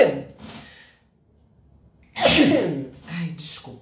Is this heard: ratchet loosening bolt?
no